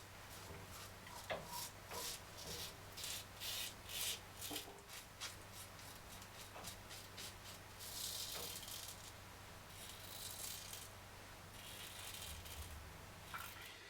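A safety razor scrapes across a lathered face in short, close, repeated strokes, each a crisp rasping burst with brief pauses between passes, no voices.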